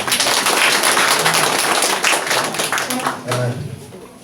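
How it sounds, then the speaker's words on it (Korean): A burst of clapping from a crowd at a city mayor's public briefing, fairly loud and close, fading out toward the end with some voices mixed in. "우리 시장님께 다시 한번 우리 뜨거운 박수를 한번 부탁드리겠습니다"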